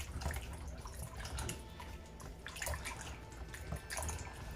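Red peas for Jamaican red peas soup rinsed under running water, a steady close splashing and trickling that continues throughout with no talking.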